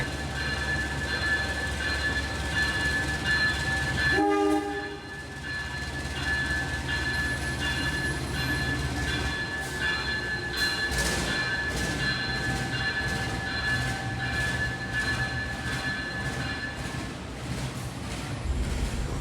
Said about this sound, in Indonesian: Sepertinya ini persiapan ya mau jalan kereta Wijaya Kusuma.